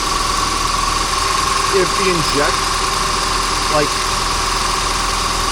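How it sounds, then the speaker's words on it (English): Steady engine idle of a Volvo 240 hums at a constant, slightly elevated pitch from idling a bit fast, close by, with brief speech over it. "this right here also is idling just a tiny bit fast"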